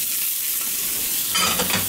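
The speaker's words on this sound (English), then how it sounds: "I'm gonna toast up my longanisa." Longanisa sausage sizzling and frying in a pan, a steady close crackling hiss that swells briefly as it is moved around.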